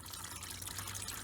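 Engine oil pours from the pried-off oil pan of a 2008 Ford Focus into a drain pan, a continuous gushing, splashing stream close by with no talk.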